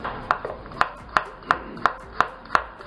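Knife chopping new green garlic on a cutting board for a risotto, seven sharp evenly spaced taps, close and clear, with no talking.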